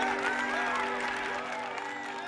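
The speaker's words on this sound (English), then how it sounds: "The crowd cheered." A street crowd cheers and claps at a rescued pet's return, a short, bright burst of cheering mixed with sustained musical tones that fades slightly toward the end.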